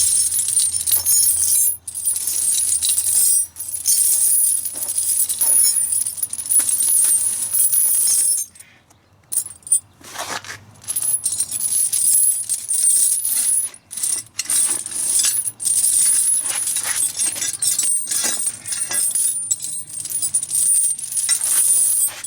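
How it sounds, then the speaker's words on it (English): A metal chain is pulled out after the linch pins and retainer come off, giving steady metallic clinking and rattling that runs almost continuously with brief pauses and no talk. "And start pulling the chain out."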